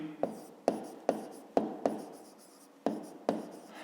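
Handwriting on paper during a fifth-grade maths exercise: seven quick scratchy strokes, each a sharp onset fading out, close up with a short pause in the middle and no speech.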